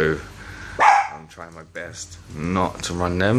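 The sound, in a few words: dog barking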